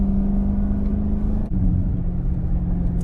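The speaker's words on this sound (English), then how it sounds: "We have a lot of exhaust notes going on." Sports car exhaust rumbling steadily while driving, a loud continuous low drone with a brief dip midway, recorded close to the exhaust with no talk.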